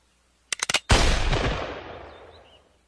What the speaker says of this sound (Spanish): Sé que esta no será la primera vez que le disparan a Token.